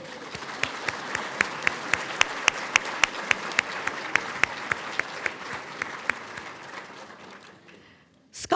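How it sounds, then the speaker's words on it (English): At a medals ceremony, an audience applauds first-generation graduates, a moderate steady patter of many hands with a few sharper nearby claps standing out. The clapping fades out near the end. "Please give them all a round of applause."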